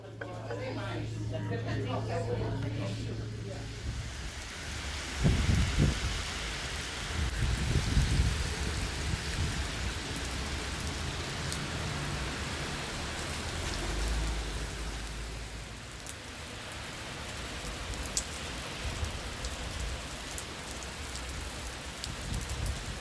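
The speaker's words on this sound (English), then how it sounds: "Storm cometh." Heavy rain storm pours steadily in Bath, Maine, a broad continuous hiss of rain on surfaces with a few louder bursts, while a voice talks briefly at the start.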